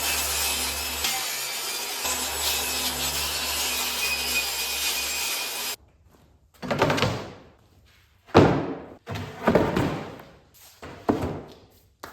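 A saw cuts leftover plywood pieces for an outdoor cat's winter shelter: a long, steady stretch of loud, close cutting noise, then several shorter separate bursts of rasping with brief pauses between them, and no talking.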